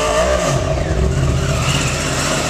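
A Yamaha R1 sport motorcycle engine runs loud and close, revving up with a rising, harmonic-rich roar and settling into a steady high drone, with no voices.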